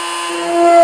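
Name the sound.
drill making a hole for servo mounting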